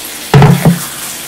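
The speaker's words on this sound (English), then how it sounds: "Mix it all up." Onion, tomatoes and jalapeno being stirred in a pan for shakshuka, two loud, close scraping strokes of a utensil through the moist vegetables, with no voice.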